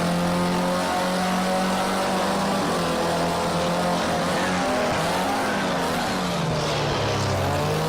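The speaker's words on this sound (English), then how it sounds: "Down to first gear, back on that power." Formula C race car engine in a racing game, dropping to first gear then roaring back to power, harmonic engine tones sliding down and climbing again, loud and continuous with no talk.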